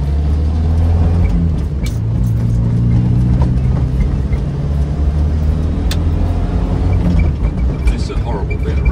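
Interior engine and road noise from a Morris Minor classic car driving over bumpy prefabricated concrete road sections, a loud steady rumble and drone with knocks from the surface throughout, while a person talks over it.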